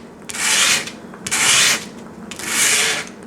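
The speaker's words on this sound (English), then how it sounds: "as I sand this" A guitar nut is sanded by hand in three long, rasping strokes, close and fairly loud, each separated by a short pause.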